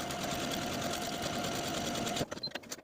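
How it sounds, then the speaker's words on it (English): A sewing machine stitches buttonholes on a dress bodice in one continuous close, loud whir, then stops and gives a few short clicking bursts. "Go ahead and stitch your buttonholes,"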